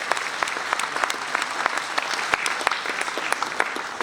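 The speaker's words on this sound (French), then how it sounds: "vous pouvez vous applaudir" An audience applauds during the mayor's New Year address in Saint-Victoret in 2024, steady, moderately loud clapping from many hands with sharp individual claps standing out through the crowd sound.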